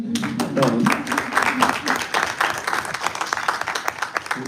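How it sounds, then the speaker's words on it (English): An audience applauds a speaker at a political address, a dense burst of many hands clapping that gradually thins into scattered claps as it winds down, close and fairly loud. "thank you for the applause"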